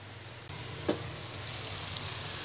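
Spice paste cooks in a covered pan for a Bangladeshi hilsa fish korma, with a steady muffled sizzle and a low hum. A single sharp clink sounds about a third of the way in.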